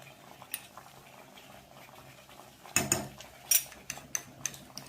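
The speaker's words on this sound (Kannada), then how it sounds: "ಕುದಿಯಕತ್ತೈತಿ ನೋಡ್ರಿ." Sugar syrup for hotel-style kesari bath bubbles in a pan, soft steady simmer with several sharp pops and spoon clinks toward the end, close and fairly quiet.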